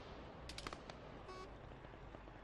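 Distant gunfire crackles across an Arma 3 battlefield as a short faint burst of shots over steady background noise, followed by a quiet tone.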